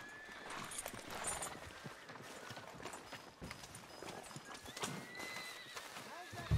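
Horse hooves clip-clop in the Western video game Red Dead Redemption, a quiet, irregular clatter of steps beneath a horse's whinny and a voice speaking.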